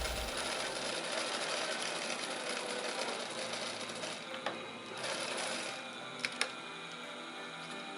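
A sewing machine runs a half-centimetre seam with a steady mechanical whir and rattle, close and moderately loud, then slows to a few clicks near the end. No one speaks.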